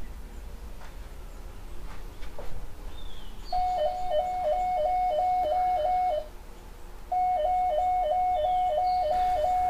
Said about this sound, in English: as I step in front of the monitored area, you'll hear more of the alarm mode sound